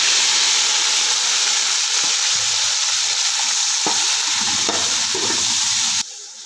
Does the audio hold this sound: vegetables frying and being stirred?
yes